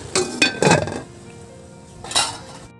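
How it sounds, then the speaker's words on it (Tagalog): A lid goes onto a cooking pot of coconut-milk stew with okra: a few close metallic clanks and rattles in quick succession, a brief pause, then one more clink. "So, takpan ko muna."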